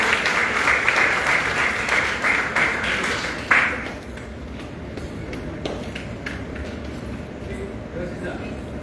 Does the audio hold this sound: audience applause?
yes